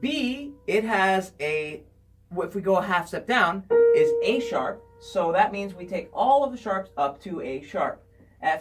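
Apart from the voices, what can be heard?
No distinct noise like a dog, phone or traffic.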